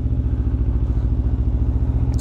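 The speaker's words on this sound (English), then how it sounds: "Not sure if you can hear me over the exhaust." Steady, close motorcycle exhaust drone with a deep pulsing beat, heard while riding through fall scenery, loud and continuous with a little clattering near the end.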